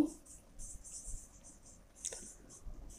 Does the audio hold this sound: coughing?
no